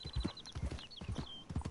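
A horse in Red Dead Online trots close by, its hooves clip-clopping in a quick, uneven rhythm while faint chirps and ambient game sounds sit in the background.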